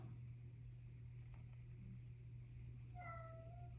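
A house cat gives a single clear meow near the end, over a quiet room with a steady low hum and a faint tap or two earlier on.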